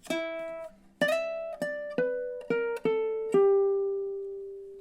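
A ukulele plays the closing measure of a minor 12-bar blues riff: about seven plucked notes in a stepping rhythm, each clearly attacked and ringing, ending on a long sustained note, close and without talk.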